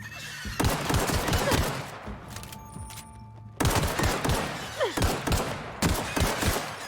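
Gunfire in The Outer Worlds video game comes as rapid volleys of sharp shots over dense combat noise, pausing briefly midway and then resuming, loud and close.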